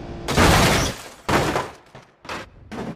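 A large cannon fires at cars crossing its path in a video game, giving several loud, sharp booming blasts in quick succession, each with a short decaying tail, with no talk.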